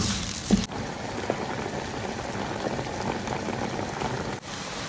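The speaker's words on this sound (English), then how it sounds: "I just added my onions to the oil" Onions sizzling in hot coconut oil, a dense, even crackle like steady rain, close and moderate in level, briefly cut off near the start and end, with no talking.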